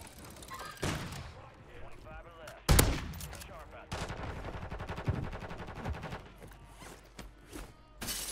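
Video game gunfire crackles in quick bursts and single sharp shots at moderate distance, with one heavy blast partway through. Players talk at times between the shots.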